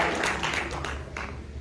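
Audience applause at a women poets' gathering in 2022: a steady, dense wash of many hands clapping together, sustained and fairly loud throughout with no voices on top.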